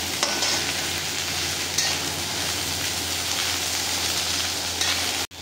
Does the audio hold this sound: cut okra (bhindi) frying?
yes